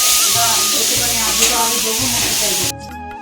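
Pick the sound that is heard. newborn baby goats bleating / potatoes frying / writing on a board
potatoes frying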